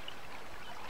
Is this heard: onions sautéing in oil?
no